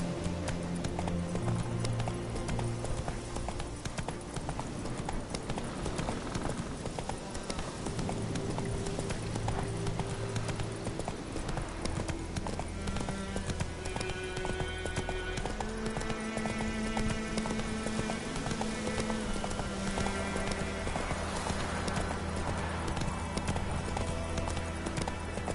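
Geralt's horse Roach gallops in The Witcher 3, its rapid hoofbeats drumming steadily beneath loud orchestral music that plays throughout.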